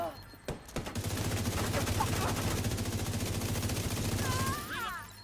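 Rapid automatic gunfire in a shooter game, a steady, loud stream of shots lasting several seconds after an opening single report, with a brief electronic chirp near the end.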